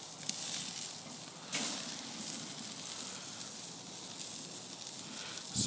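Santa Maria–seasoned tri tip searing on a Weber grill gives off a steady, close hiss and sizzle that holds level throughout, with a slight swell partway through and no talking.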